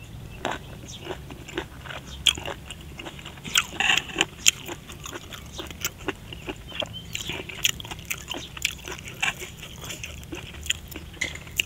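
Crunchy chewing and biting of pounded green banana salad with squid, eaten close up, a steady run of sharp crunches and wet chewing with no talk.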